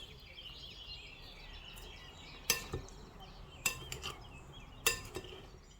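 A spoon mixes red lobia bean chaat in a bowl, with three sharp clinks against the bowl over a quiet background.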